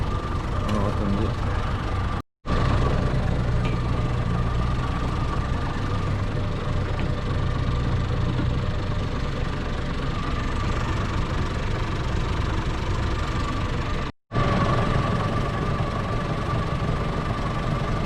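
A tractor engine idles steadily with a low, knocking rumble, interrupted twice by brief cuts to silence before the drone resumes.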